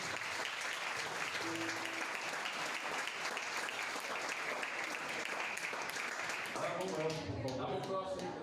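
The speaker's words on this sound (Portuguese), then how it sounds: "Pode aplaudir." Sustained congregational applause inside a church after a closing prayer, a steady wash of many hands clapping that runs for several seconds before fading as a voice begins speaking near the end.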